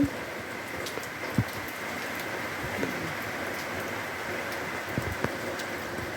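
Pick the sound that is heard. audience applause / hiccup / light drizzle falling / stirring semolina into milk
light drizzle falling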